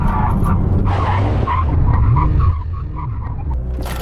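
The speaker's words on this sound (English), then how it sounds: "let's do a brake test. 70 miles an hour, line, full emergency stop." A tuned Nissan GT-R makes a full emergency stop from 70 mph, its tires skidding and squealing loudly up close for several seconds over the engine note, then easing off as the car slows.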